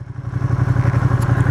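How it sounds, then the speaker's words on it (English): Ducati Panigale V2 motorcycle engine running close by, a loud, steady low throb with a fast pulsing beat throughout the short stretch. "I just want to kind of get on the bike, drive around"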